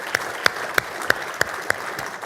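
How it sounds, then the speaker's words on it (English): At a Morris and Sussex County town hall, sparse, evenly spaced handclaps ring out about three times a second, each sharp and distinct rather than a full roaring ovation. "give yourselves a round of applause"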